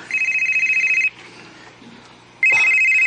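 A mobile phone rings loudly in two bursts, a pulsing electronic ringtone for about a second, a short pause, then the tone again, with no talk.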